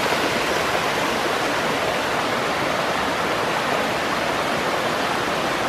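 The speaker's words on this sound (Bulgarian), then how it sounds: "Тук този водопад се казва Сребърструй." Heard up close, the Srebarstruy waterfall pours in a constant, dense white-noise roar that stays loud and even from start to finish, with no talking over it.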